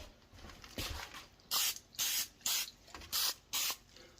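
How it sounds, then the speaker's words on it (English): Five short bursts of olive oil spray hiss onto a prime rib roast in a steady rhythm, close and fairly loud, after a moment of quieter handling noise. "I am going to spray this with some olive oil."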